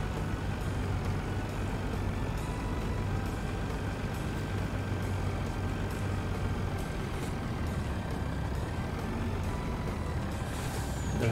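A milk truck driving in Farming Simulator 19 sends out a steady diesel drone with a low rumble and faint tonal whine, a brief hiss near the end, and no talk.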